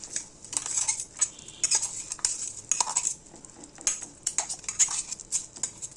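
Grated coconut being stirred and fried into beetroot halwa in a pan, with repeated scraping and clinking of a spoon against metal and a soft sizzle underneath, close and steady with no talking.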